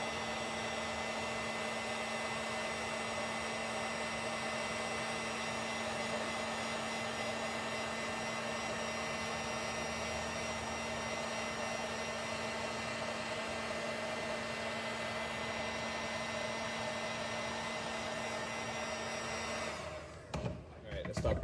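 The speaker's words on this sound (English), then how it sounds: "So you see how the heat gun is heating this area up" A heat gun blows steadily on a tomahawk handle, a constant loud whirring hum with a steady tonal drone that runs unbroken for about twenty seconds before cutting off abruptly with a few handling knocks.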